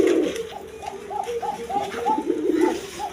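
Pigeons at a breeding farm coo in a rhythmic series of soft, repeated rolling calls, close and clear with faint background noise.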